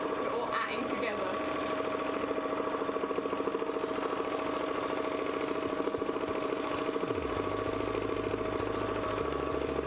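A sewing machine runs in a steady, fast mechanical rhythm and holds on for the whole stretch, with a voice talking faintly underneath.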